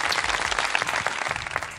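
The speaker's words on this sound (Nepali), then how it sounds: "ताली बजाइदिएको दिनेशको लागि" Studio audience applauding on a TV dance competition show for contestant Dinesh: dense, steady clapping close by, filling the whole stretch without talk.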